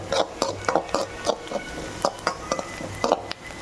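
Onions sautéed in a pan while being stirred with a metal spoon, rhythmic scraping clinks against the pan repeating about twice per second over a soft sizzle, close and fairly quiet.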